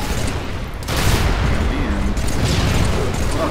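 Rapid bursts of gunfire in the Halo 3 video game crackle loudly and almost continuously, with a heavier volley about a second in and voices talking over the shooting.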